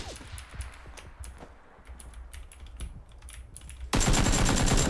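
Rapid bursts of automatic gunfire crackle through a battle royale-style shooter, with repeated volleys at varying distance, ending in a loud, dense close-range burst over the final second.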